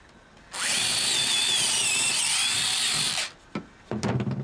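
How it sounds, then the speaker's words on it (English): A power drill whirs steadily for about three seconds, loud and close, then stops, followed by a few short knocks and scrapes. "Drill a hole."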